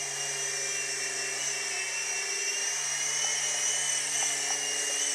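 An indoor remote-control helicopter's steady high whine of rotors and motor runs continuously and close by as it turns to the right in flight, with no voices.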